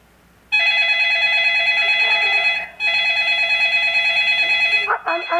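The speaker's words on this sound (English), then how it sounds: "Answer the phone, girl." An electronic telephone ring sounds loud and steady from a theatre piece staged at Carifesta 2019, repeating in two long bursts with a brief gap, and a voice cuts in near the end.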